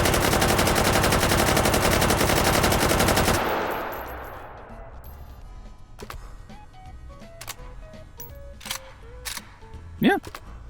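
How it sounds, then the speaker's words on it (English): An AK-12 rifle fires in the VR game H3VR, a dense, loud burst of rapid automatic fire lasting about three seconds before fading. Clicks and handling rattles follow. "This is the AK-12, the very modern AK."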